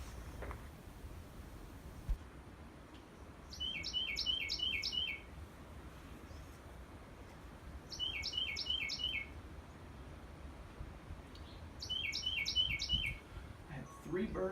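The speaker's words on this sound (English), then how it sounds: "enjoy all the beautiful bird songs" Small birds sing at a bird blind in Inks Lake State Park, three clear bursts of rapid, repeated high chirping trills spaced a few seconds apart over a soft outdoor background.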